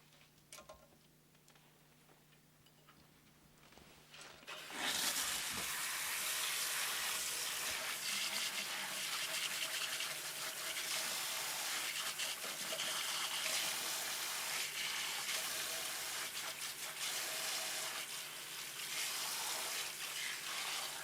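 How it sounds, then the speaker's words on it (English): At a salon sink, a low hum gives way around five seconds to loud, steady gushing spray as water rinses hair, continuing unbroken and close with no voices. "we're going to rinse your hair first"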